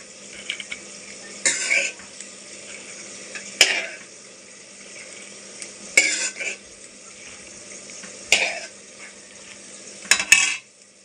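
Cooked rice is spooned onto mutton in a pot for homemade dum biryani, with a soft background sizzle and five sharp scrapes and clinks of a spoon against the pot at regular intervals, close and moderately loud, without talk.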